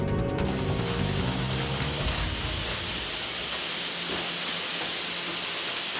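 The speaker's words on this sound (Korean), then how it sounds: "고기를 삶고 있습니다" An industrial cooker steams skipjack tuna for canning in a factory, giving a loud, continuous broadband hiss of venting steam with a rumbling machine layer beneath, steady throughout.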